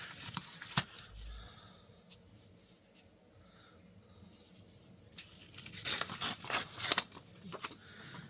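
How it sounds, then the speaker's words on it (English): Scissors snip through paper tags with quiet, close crisp cuts, a few isolated snips early, then a burst of rapid snipping and rustling near the end, faint and with no talk. "And then let's cut this one off down here."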